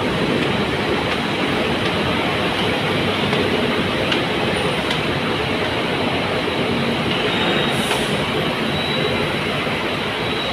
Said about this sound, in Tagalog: Sakay namin yung LRT.